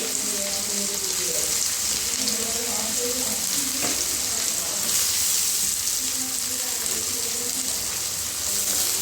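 Chopped onions frying in oil for a tilapia fish curry, a continuous close sizzle with occasional stirring and faint background clatter, no talk.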